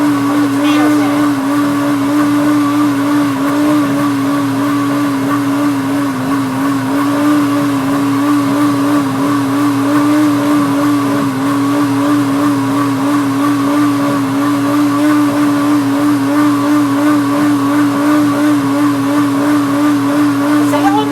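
A deluxe cooking blender purees tomatoes and hidden vegetables for marinara, its motor a loud, constant, gritty drone that runs steadily from start to finish.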